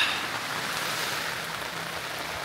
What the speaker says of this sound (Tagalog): Umaambon pa rin pero humina na yung ulan.